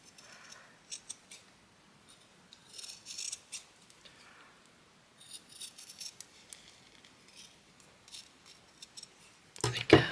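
Scissors snip through a scrap of fabric to cut a small circle, giving quiet, close crisp cuts in irregular bursts with pauses, ending with a louder clatter.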